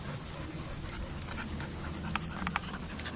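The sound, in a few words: dog panting and whimpering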